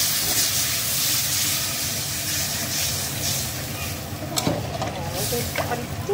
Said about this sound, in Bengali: এবার আমার পরিমাণ মতো জলটা অ্যাড করে দিই